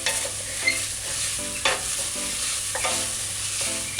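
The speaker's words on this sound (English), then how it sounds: "Alright, so stir fry." Ground beef for tacos stir-fried in a pan with a wooden spoon, a steady close sizzle broken by repeated scraping and clattering strokes of the spoon against the pan, no voices.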